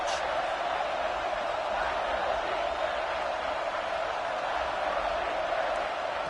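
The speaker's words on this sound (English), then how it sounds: "this crowd is at fever pitch" A stadium crowd at a college football game roars in a steady, dense wash of noise on a third-down play in the red zone, loud and continuous with no clear breaks.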